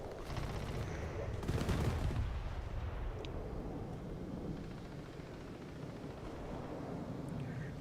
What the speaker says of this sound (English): bad AA gun